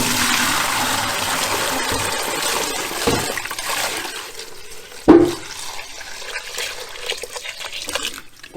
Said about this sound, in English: So we're going to go ahead and we're going to drain the whey off of it.